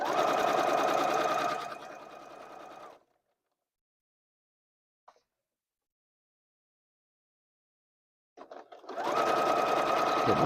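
A sewing machine stitches a stand mixer cover in a loud, fast whirring run that slows and stops, followed by a long silence with one small click before the motor starts up again.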